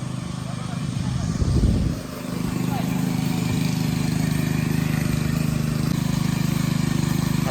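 A Honda petrol mini tractor ploughs a field for a sesame crop, its small engine humming in a steady, buzzing drone with a brief surge near the start, while a voice talks over it.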